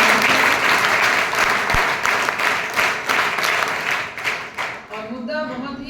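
Audience applause at a college program on breast cancer and the menstrual cycle run by an NCC wing, loud and sustained for several seconds, thinning out near the end as a voice begins to speak.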